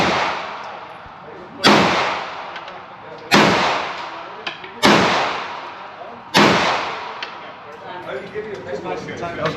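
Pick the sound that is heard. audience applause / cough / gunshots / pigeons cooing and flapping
gunshots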